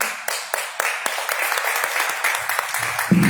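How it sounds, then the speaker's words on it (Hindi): Applause from an audience after a patriotic song at a Republic Day evening program, a handful of sharp claps opening into a modest, steady round, with a brief other sound near the end. "ताली तालियां"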